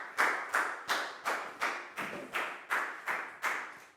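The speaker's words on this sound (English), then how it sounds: "Big round of applause for Bangpon, guys." Classroom applause from a group of primary-school pupils, eleven quick, evenly spaced bursts of clapping in a steady rhythm, fairly close and clear with no talking.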